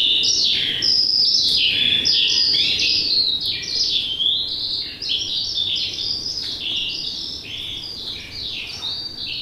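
A male bird sings at the edge of a cornfield in late spring, loud and close, with bright, rapid, repeating phrases that run almost continuously over a faint bed of insect buzz.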